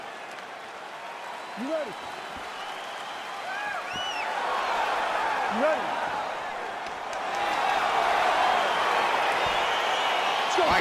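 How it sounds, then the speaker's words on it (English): A video-game crowd at a UFC fight in EA Sports UFC 4 roars and cheers in a continuous wash that swells louder as the bout begins, with a voice talking over it. "crowd getting excited as this fight gets underway"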